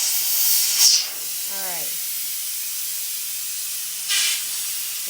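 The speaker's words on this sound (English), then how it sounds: "And you can tell that steam is really going there." Steam hisses sharply from a pressure canner being vented while pickled green beans are processed, a strong burst, then a long steady rush with another surge near the end; a person says a brief word over it.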